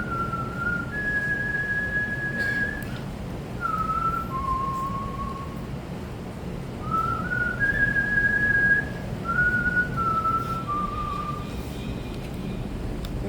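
A person whistles a slow, simple tune in long sustained notes with pauses between phrases, over a low steady background hum.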